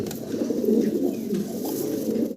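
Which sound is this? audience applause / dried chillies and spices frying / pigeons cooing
pigeons cooing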